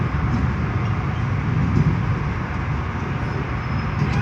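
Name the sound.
Southeastern class 376 train arriving at London Charing Cross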